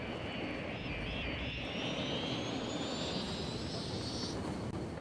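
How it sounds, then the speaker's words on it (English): Airplane taking off at an airport in the city-building game Cities: Skylines, a steady loud jet roar with a rising whine that climbs in pitch over several seconds before cutting off. "It's a green airplane this time."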